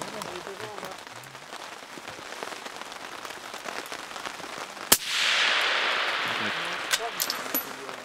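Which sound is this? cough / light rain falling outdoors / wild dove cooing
light rain falling outdoors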